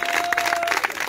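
A church congregation applauding, a brief burst of dense, fairly loud clapping from many hands with a faint sustained tone under it.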